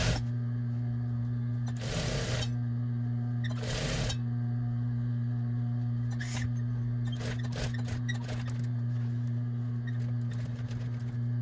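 A sewing machine stitching the hem of a child's apron, giving a steady mechanical hum with a constant tone and faint rhythmic clatter, close and moderately quiet, with a few louder rustles of fabric handling.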